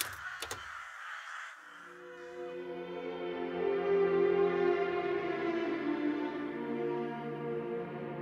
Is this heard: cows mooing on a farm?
no